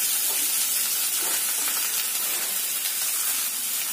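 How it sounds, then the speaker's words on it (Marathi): Cooked rice hits cumin seeds in hot oil in a pan, giving a continuous close sizzle and hiss with light stirring scrapes, steady and moderately quiet throughout. "जिरं छान असं तेलामध्ये थोडंसं परतवून झाल्यानंतर भात घालून घेणार आहे मी याच्यामध्ये"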